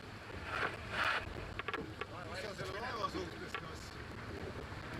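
Onboard sounds of an Estonian rowing boat out on open water: a steady wash of water and wind noise with faint rhythmic knocks, while a commentator talks quietly over it.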